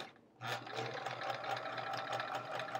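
A home sewing machine stitches quilt squares in a continuous chain, its fast, even mechanical whir close and fairly quiet, starting after a brief pause.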